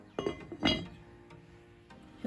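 A metal lid goes onto a cooking pot of vegetables and hot water: two close, bright clinks about half a second apart, a quieter faint tap afterward, then another clink at the end.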